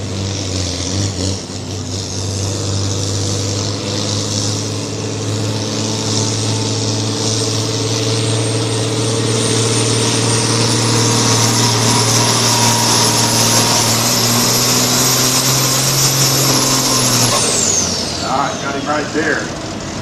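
Pulling tractor at a volunteer fire department pull event at night, its engine roaring loud and steady for about seventeen seconds with a rising high whine, then cutting off, with an announcer talking over it.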